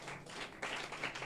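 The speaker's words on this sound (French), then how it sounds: "On nous bat applaudissements pour le Seigneur." A church congregation at an annual revival service claps for the Lord, a short burst of quiet, dense applause.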